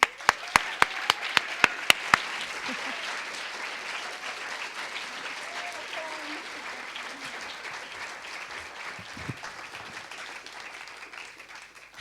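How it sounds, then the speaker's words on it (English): A lecture audience gives sustained, even applause to welcome Laura Bates and Gemma Cairney. A few sharp claps ring out at first, then dense crowd clapping continues steadily at a moderate distance for about twelve seconds. "Huge applause"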